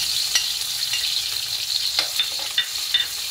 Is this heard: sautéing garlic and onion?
yes